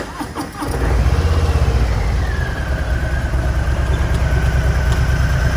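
A 2021 Harley-Davidson Street Bob 114 motorcycle engine cranks and fires up after a brief starter whir, then settles into a loud, close, steady rumbling idle that fills the rest of the clip with no talk.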